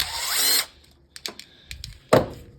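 A power tool with a 7mm socket removing the bottom bolts of a plastic Briggs and Stratton lawnmower carburetor: a short whirring burst up close, then small metallic clicks and another brief buzz, with no talking.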